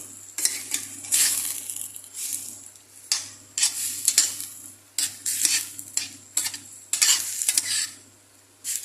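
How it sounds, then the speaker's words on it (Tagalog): Food fries in a wok-style pan and is stirred with a utensil, giving bursts of sizzling and scraping strokes in an irregular rhythm over a faint hum, close by. "Inihaw sa kawali. Yan. Haluin na natin."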